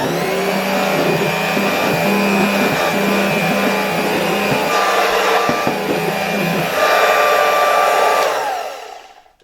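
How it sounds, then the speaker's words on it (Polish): A 1992 Royal Dirt Devil 150A handheld vacuum cleaner runs on a countertop with a loud, harsh motor whine and rattling hum, steady and close, then winds down and cuts off at the end. "podczas odkurzania na takim blacie to on faktycznie wydaje iście diabelskie odgłosy"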